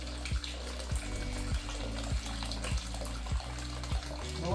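Hot water poured into akamu (pap) in a village kitchen, a steady close liquid splash and gurgle running continuously with small rhythmic surges, no talking.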